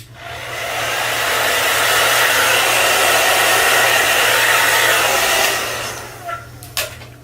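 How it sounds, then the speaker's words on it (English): Hair dryer blowing steadily on a full lace wig, a loud continuous airflow roar for about six seconds that then tapers off, followed by a couple of brief handling clicks. "and then we're going to blow dry that a little bit."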